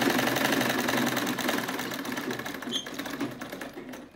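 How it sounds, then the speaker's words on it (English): A sewing machine stitches a dart on a skirt, a close, continuous rapid mechanical chatter running steadily for the whole stretch and tapering slightly at the end. "now we are in the sewing machine. Let's sew our dart first"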